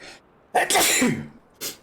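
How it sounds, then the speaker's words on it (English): A single loud, close sneeze with a sharp intake of breath before it, followed by a short exhale. "Now I need to sneeze."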